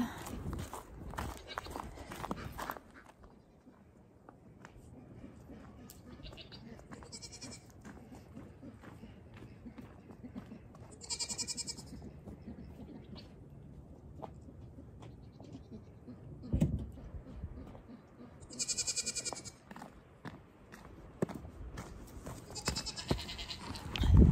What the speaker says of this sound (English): Goats are crying because they want their hay barrel filled.